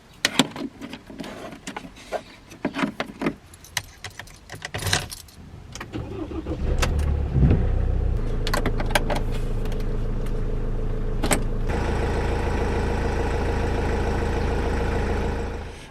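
A car travels along the road with a steady, loud engine and road rumble that takes over after a few seconds of clicks and rustling like jangling keys near the start.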